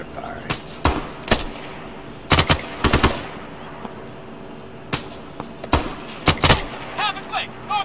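Gunfire in Arma 3: sharp, close bursts of rifle and machine-gun shots crack out in irregular clusters, some rapid doubles, over a quiet battlefield backdrop.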